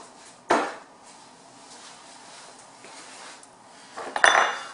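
Metallic clinks and small clatters of carburetor parts being handled and fitted back together on a workbench, with one sharp clink near the start and a brief cluster of rattling taps toward the end.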